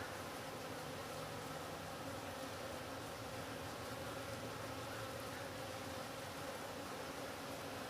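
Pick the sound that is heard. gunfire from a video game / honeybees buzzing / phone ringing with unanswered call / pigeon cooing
honeybees buzzing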